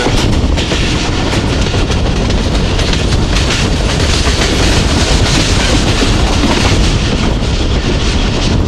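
The Jaffar Express passenger train runs through Punjab between Lahore and Rawalpindi, a loud, close, continuous rumble of wheels with steady clickety-clack over the rail joints and no talk.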